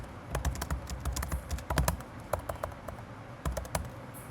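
Code is typed on a computer keyboard, with close, crisp key clicks in quick irregular bursts and brief pauses between runs of keystrokes, and no talking.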